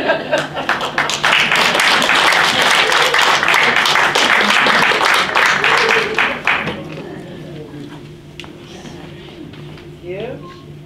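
Audience applause at a senior center poetry reading, a dense, loud burst of clapping from a crowd for about six seconds that then thins out and fades into a quieter room with faint talk.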